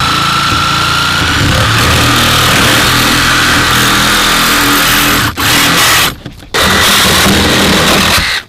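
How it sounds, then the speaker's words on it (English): A Sawzall reciprocating saw cuts plastic trim away from a car's B-post during rescue extrication training, a loud, continuous buzzing roar close by that drops out briefly twice near the end. "We know that we got to remove this plastic so we can get as down low on the B-post as possible, so that's a Sawzall job."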